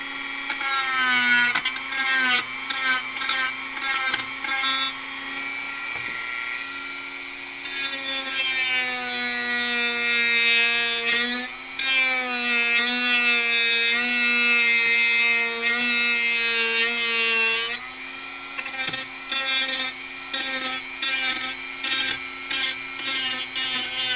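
A Dremel rotary tool cuts into wood with a continuous high, whining buzz whose pitch rises and falls as the load changes. It stays loud and close for the whole stretch, with no talking.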